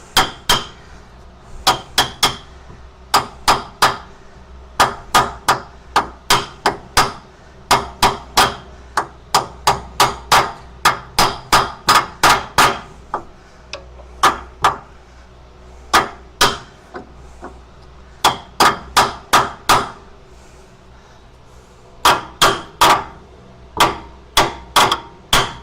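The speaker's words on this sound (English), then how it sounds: "Maybe we use tiny hammer?" A small hammer strikes metal on a budget car lift in a home garage for a Geo Tracker, ringing out in rapid bursts of sharp, close, loud blows with short pauses between runs.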